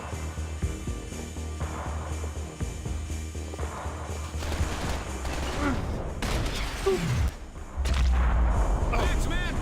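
Gunfire in the video game Max Payne 3: loud, dense bursts of shots and booms amid a busy, continuous soundtrack, with a heavy impact near the end.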